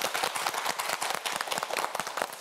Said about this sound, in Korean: 힘을 내라고 응원의 박수 한번 부탁드립니다.